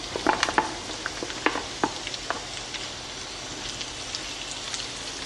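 Onions and garlic frying in a pan in an apartment kitchen, a steady crackling sizzle with scattered sharper pops, close and fairly loud, no talking.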